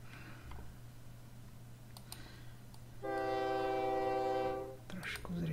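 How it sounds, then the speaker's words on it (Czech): Trains running on a railway network in the game OpenTTD, with background game noise and a sustained, loud train horn or whistle tone for about two seconds, preceded and followed by clicks. "Teď pustíme vláčky."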